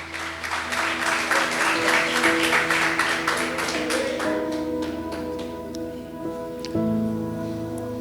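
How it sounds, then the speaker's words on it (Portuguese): Church congregation applauding at a Lord's Supper service, dense steady clapping for about seven seconds that thins toward the end, with sustained organ or keyboard tones underneath. "Dá uma linda salva de palmas a Jesus."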